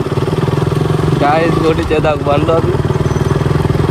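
Scooters on the road in a race, a steady idling-to-revving engine drone runs close and loud throughout, while a person talks over it briefly.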